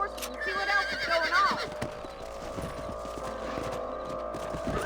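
A horse neighs loudly and close in Red Dead Redemption, followed by hoof clip-clops and movement sounds, with music and other game noise underneath.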